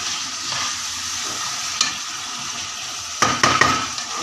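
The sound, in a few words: stirring and frying liver and gizzards with pomegranate molasses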